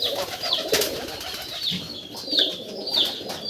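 Pigeons coo softly and repeatedly at a pigeon farm, a male bird among them, with several close, rounded calls spaced across a few seconds and faint bird rustling in between.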